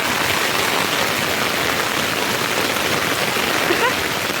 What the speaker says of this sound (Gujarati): ધોધમાર વરસાદ પડે